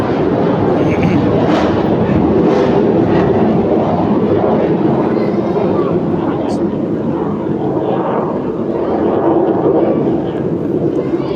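An airplane circles repeatedly overhead, its continuous engine drone filling the background loudly and steadily beneath a man's ongoing speech.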